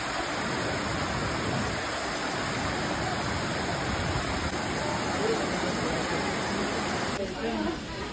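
A waterfall on the road to Marleshwar temple in Konkan during monsoon roars steadily and loudly, a dense unbroken wash of falling water from start to finish.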